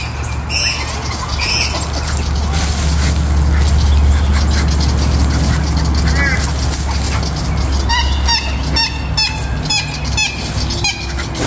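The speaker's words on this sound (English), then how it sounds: "Look, they're feeding the ducks." Ducks and geese being fed outdoors honk and squawk in scattered bursts, some close and loud, over a steady low background rumble with people nearby.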